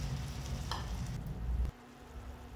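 Cauliflower frying in a pan with a loud, steady sizzle that drops sharply partway through as water is poured in, leaving a quieter simmer.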